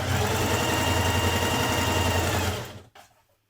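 Steady close-up whir of a sewing machine stitching the side seam of a Burda 6055 smock dress, a loud continuous mechanical hum that runs for several seconds and then winds down and stops.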